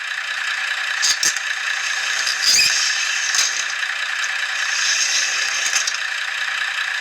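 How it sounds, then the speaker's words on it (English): Sliding doors from the sound system of a Revolution Trains Class 128 model train: steady mechanical hiss with scattered rattling and scraping clicks across several seconds, with no voices. "We can hear the sliding doors using function 13."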